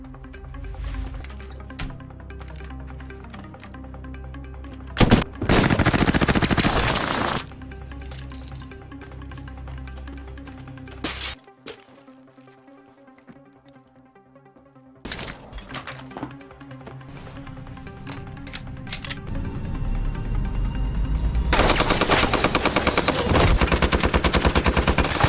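Gunshots in a dramatic film scene: bursts of loud cracking gunfire and rapid fusillades over a tense music score, with a quiet lull between volleys before heavy firing resumes.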